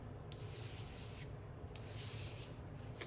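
Acrylic paint being scraped across canvas during abstract painting, a steady rough rasping that sweeps back and forth in repeated strokes, close and continuous with brief brighter scrapes.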